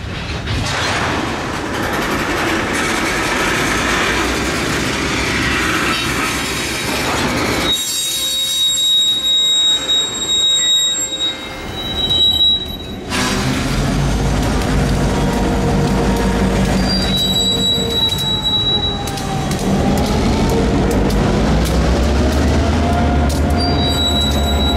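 Train 4 of an Allegheny shortline runs alongside Spring Creek, its wheels squealing loudly against the rails over a deep rumble. Cars roll past with steady clatter and several sharp screeches.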